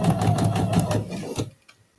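A sewing machine stitches through the seam of a quilt block, a steady close mechanical whirring for about a second and a half before stopping abruptly into near silence.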